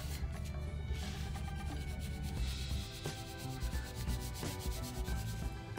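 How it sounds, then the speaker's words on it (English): Crayon shaded onto paper in steady back-and-forth strokes, a continuous close scratchy rubbing with a fast, even rhythm and no voices. "you can always go back and put another layer of crayon on top of it"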